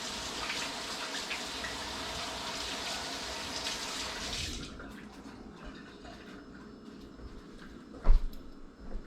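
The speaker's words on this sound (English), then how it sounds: "Gotta wash my hands." Hands washed under a running kitchen tap during cooking, a steady close rush of water for several seconds that cuts off, followed by quieter room tone and a brief knock.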